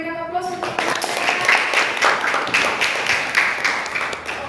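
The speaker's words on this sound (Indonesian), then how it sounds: "Oke, berikan aplaus untuk" Students applaud in a classroom during a lesson, a dense patter of clapping hands that keeps going for several seconds at close range, with a voice heard briefly at the start.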